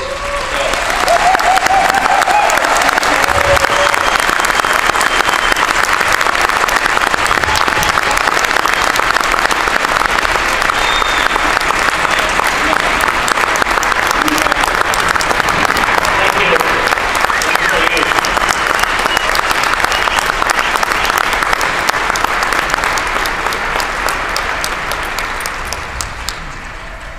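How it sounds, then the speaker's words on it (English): A large audience applauds loudly and steadily for nearly half a minute in a conference hall, the dense clapping holding constant before tapering slightly at the end. "I wanted to quickly give a very loud applause to Webchick, and I would like to invite her"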